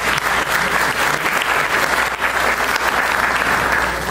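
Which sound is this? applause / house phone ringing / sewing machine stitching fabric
applause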